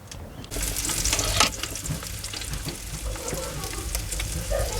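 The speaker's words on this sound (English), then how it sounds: "So here we have the lamb rotating in the pizza oven" Lamb roasting on a rotisserie inside a pizza oven gives off a steady close sizzle and crackle of fat with scattered pops, holding at an even level throughout with no voices.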